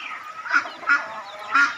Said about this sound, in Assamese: এই মাইকী হাঁহ আৰু এই মতা হাঁহ